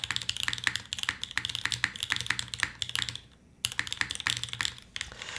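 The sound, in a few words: typing on mechanical keyboard with cream switches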